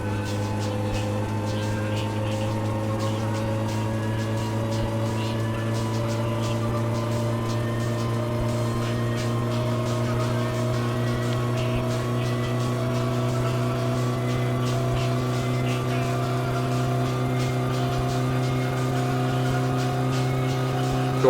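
The car engine in the video game My Summer Car revs through fourth gear, a steady droning tone climbing gradually in pitch for about twenty seconds, loud and continuous with no talking over it.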